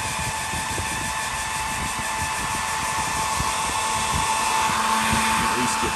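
A hair dryer drying watercolor paint on paper blows with a constant loud whirring hum close by for the whole stretch, steady and unbroken.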